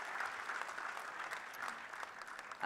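Faint, steady applause from a literary festival panel audience in Bengaluru, a soft continuous wash of clapping heard from a distance.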